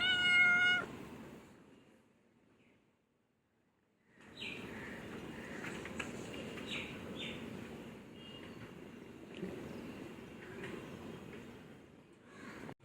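A pet cat lets out a clear, close meow at the start, then after a short silence gives several softer chirping mews over a faint background rustle.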